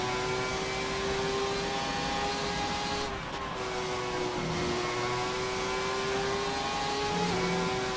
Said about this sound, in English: This does sound like the last V12.